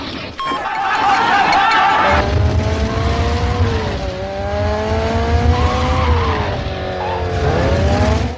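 A Nissan 240SX sports car from a 1980s commercial corners hard, its engine revving loudly with rising and falling pitch as tires squeal steadily throughout, close and dominant with no speech.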